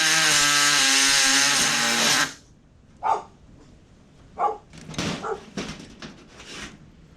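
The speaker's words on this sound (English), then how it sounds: "I can't think of a way to make it go any better than to use a body saw." A body saw cuts the metal of a 5-ton crew cab truck's cab during a chop top. A loud, buzzing, strongly pitched whine runs for about two seconds and stops abruptly, followed by scattered knocks and clatter.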